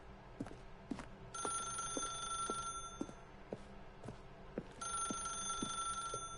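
An old-style telephone bell rings repeatedly in The Stanley Parable video game, steady clanging bursts over a faint ticking pulse, with no one talking.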